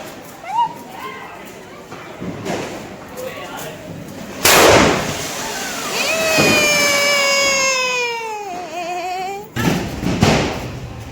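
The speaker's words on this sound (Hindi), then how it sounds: "तो यहाँ पे पटाखे छुटा रहे हैं।" Diwali firecrackers go off outdoors, with sharp bangs and a long whistling rocket that sweeps upward before a final pop, under a voice.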